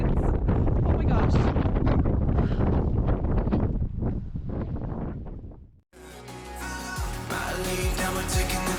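Strong wind buffets the microphone at Vista House, a loud, continuous roar with gusty swells that drops away briefly before music takes over the second half.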